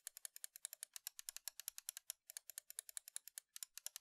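Rapid, light clicking from the buttons of a Gigabyte Aorus M6 gaming mouse, a steady close-up run of crisp taps with a couple of brief pauses.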